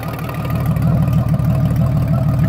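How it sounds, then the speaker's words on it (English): A 1997 Honda Valkyrie Tourer motorcycle engine with a Cobra exhaust idles close up, giving a loud, steady, deep burble with a fast even pulse and no talk over it. "You guys are familiar with the Cobra exhaust. A little more beefier sound than a stock exhaust."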